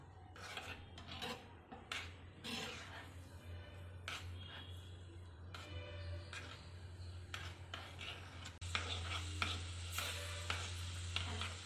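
Cashews and raisins roast in a pan for a Tamil sweet, giving a steady scraping, rasping stir over a constant low hum, with the stirring growing louder toward the end and no talking.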